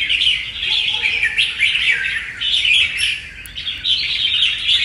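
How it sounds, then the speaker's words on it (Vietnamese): Songbird singing steadily with bright, continuous chirping and trilling phrases, close and fairly loud, with no talk. The bird is a Vietnamese red-whiskered bulbul from the Lang Son limestone mountains. "Còn con chim nó như thế nào thì nó thể hiện sơ qua trên clip cho anh em rồi"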